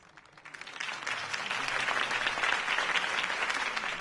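A crowd at a campaign speech in the Batman Telltale video game breaks into applause that swells from a soft start into a full, sustained roar of clapping, dense and lively, with no talking over it.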